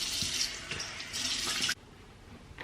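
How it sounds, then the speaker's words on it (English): Tap water running into a bathroom sink while a face is rinsed, a steady close splashing gush with small uneven surges, then the flow cuts off abruptly, leaving a quiet room. "I'm going to rinse my face."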